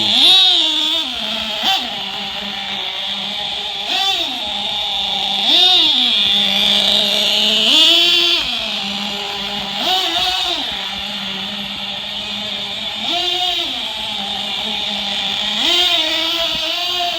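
A nitro Mini-B RC car engine idles and blips on very light throttle, its buzzy whine rising in short repeated revs roughly every two seconds over a steady high-pitched drone, close and continuous.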